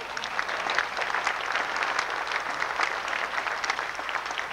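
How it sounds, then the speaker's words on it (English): An audience claps through a workshop Q&A session: dense, steady applause from a room full of people, sustained at an even level throughout with no pauses. "I think he wants you to clap for him"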